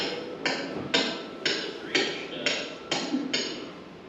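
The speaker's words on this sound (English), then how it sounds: "Unable to push this 3-inch pipe in the ground more than about a 1/4 inch. Got to hammer it in." A metal hammer drives a 3-inch pipe into the ground in a steady rhythm, about eight blows roughly half a second apart, sharp and ringing, close up outdoors in a field.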